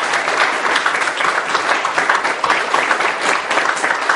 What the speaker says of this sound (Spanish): que también pienso que merece un fuerte aplauso